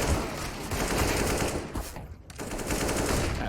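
Sustained automatic gunfire rattles through a professional Counter-Strike esports match between Vitality and G2, dense and loud, with a short lull near the middle before firing resumes.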